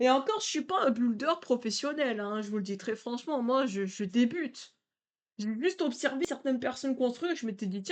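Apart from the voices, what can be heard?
No distinct noise like a dog, phone or traffic.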